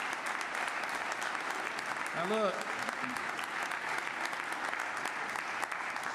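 Broad, steady applause from an audience fills a hall during a governor's state address, continuous and even throughout, with someone briefly speaking over it.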